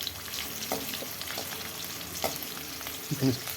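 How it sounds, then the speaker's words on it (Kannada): Green chillies and urad dal roasting in hot oil for oggarane rice, a steady close crackling fry with a few soft stirring knocks toward the end. "ಮೆಣಸಿನ್ಕಾಯಿ ಚೆನ್ನಾಗಿ ಎಣ್ಣೆಯಲ್ಲಿ ರೋಸ್ಟ್ ಆಗುತ್ತೆ ಚೆನ್ನಾಗಿರುತ್ತೆ"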